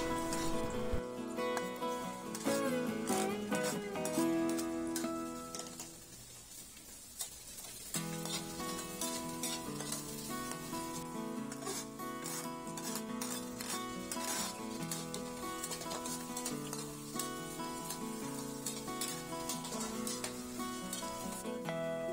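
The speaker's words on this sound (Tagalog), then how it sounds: "dito na natin gigisa yung ating luya, sibuyas at ng bawang. Igisa lang natin yan for at least 10 seconds" Ginger, onion and garlic sautéing in hot oil, a continuous close sizzle with frequent stirring clinks and scrapes of a utensil against the pan, briefly quieter midway before picking back up.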